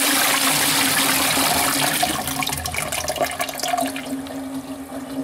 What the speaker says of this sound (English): Oh, that's better flush.